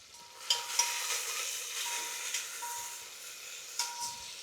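Two green chillies and two finely chopped medium onions with a pinch of salt sautéing in a pan for tomato pulao, a soft steady sizzle with a few light stirring clicks and scrapes.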